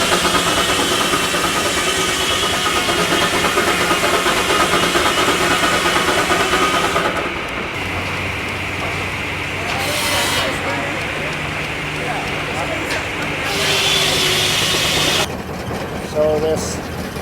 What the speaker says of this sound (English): steam engine here is running on the wood that they're cutting up, the excess pieces they're cutting off the sides of the logs